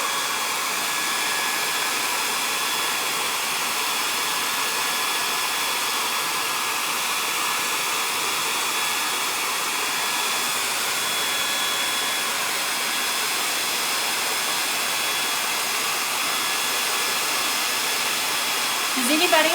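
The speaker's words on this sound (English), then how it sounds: "And again, y'all see my hair dryer. It's just a cheapo little hair dryer." A cheap little handheld hair dryer blows without a break for the whole stretch, drying ink on a craft transfer, a loud, steady, close whoosh with no talk over it.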